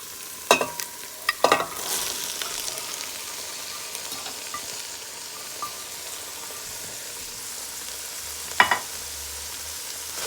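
Bora and carrot stirred into seasoning in a pot while cooking a Guyanese bora and chicken lunch, with a few scraping stirs early and again near the end over a faint, steady sizzle.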